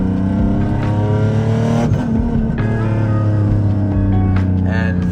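A turbocharged Nissan 370Z Nismo revs loudly and up close, its engine holding a strong sustained tone with rising and falling pitch across the whole stretch.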